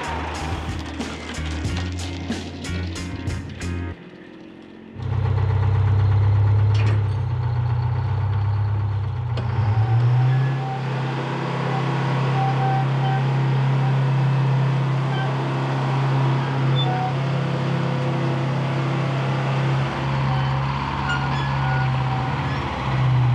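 A Detroit-powered truck engine runs while towing a Kenworth cabover, starting with rapid clattering ticks before settling into a loud, steady low drone that holds throughout.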